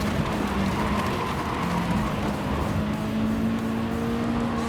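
Race cars in Gran Turismo 7 roar steadily around the track, a sustained engine drone with pitch shifts as slower cars are lapped, continuous and fairly loud with no talking.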